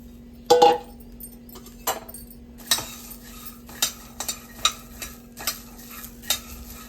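Fresh pigeon pea beans are dry-roasted in a pan over a gas flame, with a spoon scraping and clinking against the metal in irregular bursts over a low steady hum; nobody speaks.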